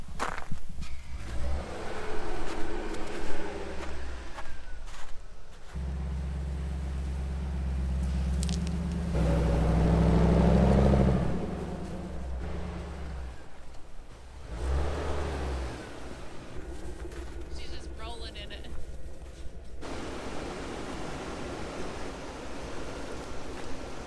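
A large off-road wrecker truck turns around and pulls back onto the road, its heavy engine rumbling low and near, swelling as it revs mid-turn and then settling, with no voices.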